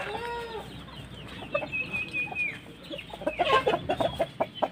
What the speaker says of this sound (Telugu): ఫామ్ కాడికి వచ్చా, చూపిస్తా చూడండి కోళ్ళని